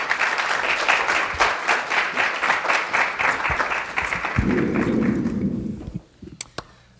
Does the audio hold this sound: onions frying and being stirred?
no